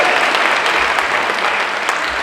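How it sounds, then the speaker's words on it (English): Loud, dense applause from a large audience at a San Diego Comic Con panel for Voltes V: Legacy, continuous clapping greeting a GMA post-production executive as he is introduced. "Give him a big round of applause."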